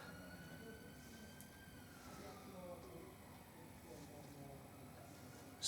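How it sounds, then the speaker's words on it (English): A faint emergency siren wails in the distance, its pitch slowly sliding, with low background hum and murmuring. "Siren."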